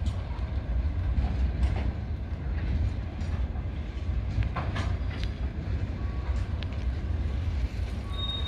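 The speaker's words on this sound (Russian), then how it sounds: "Дорога закрыта, едет поезд." A train rolls slowly past a closed road crossing near Giruliai, by Klaipėda in Lithuania, giving a steady, continuous rumble with faint rail clatter and brief higher squeals, close and loud throughout.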